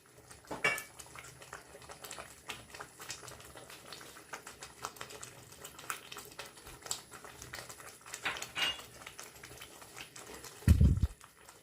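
A ladle stirs green hariyali pav bhaji in an uncovered cooking pan, giving faint scraping and occasional light metallic clinks at an irregular pace, with one duller knock near the end, over a low steady background hiss.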